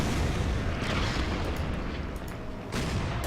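A KV tank opens fire on a town in the World War II strategy game Order of Battle: Panzerkrieg, around Kharkov in 1943, giving a dense, continuous rumbling blast that stays loud throughout, with a fresh burst near the end.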